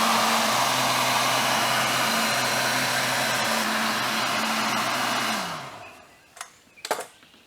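A heat gun blows with a steady, loud whirring hiss while warming the lower door seal of a Jaguar XK8 coupe, then cuts out and winds down, followed by a couple of faint handling knocks.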